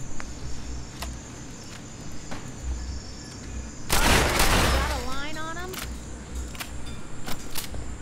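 Machine pistol gunfire in Fallout 4 erupts as a dense, loud burst of rapid shots lasting about a second, amid sparse clicks and ambient game sound, with a falling electronic sweep trailing after it.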